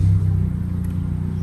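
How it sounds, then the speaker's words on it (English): A car with a newly modified exhaust idles close by, a steady low droning rumble with no voices over it. "every time you change your exhaust, it takes like a few days for your car to like settle in on the noise"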